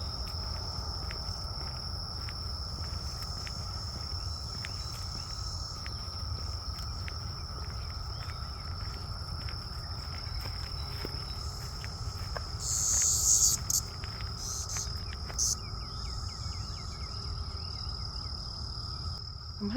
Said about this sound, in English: I'm hoping to get at least one photo of one of those cicadas.